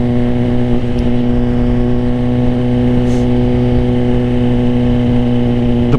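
A 2024 Suzuki GSX-R 1000 motorcycle engine drones steadily while riding, a loud close constant tone with no clear revving changes, heard alone.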